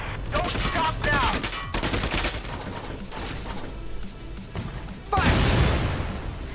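Gunfire in the video game Valkyria Chronicles 4: bursts of rifle and machine-gun fire crackling steadily across the clip, with a heavier impact near the end and brief game voice snippets.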